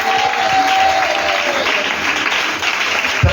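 Church congregation applauding and cheering during worship, a steady dense wash of clapping and voices from start to finish with a sustained tone underneath.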